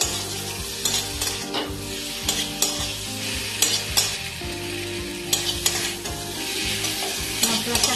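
Fried potatoes being stirred with spices in a pan for a Bengali tilapia fish curry, giving a steady sizzle broken by repeated scraping and clattering strokes of a spoon against the metal.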